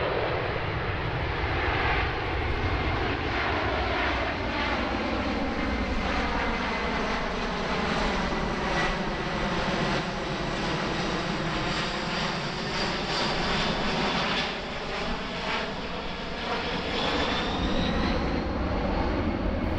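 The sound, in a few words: C-17 military cargo aircraft flying at airshow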